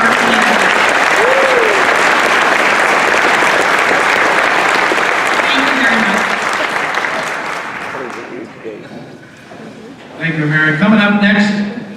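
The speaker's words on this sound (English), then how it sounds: "join me in a round of applause" A dinner audience breaks into loud, sustained applause from a room full of people, fading out after several seconds before a voice starts speaking.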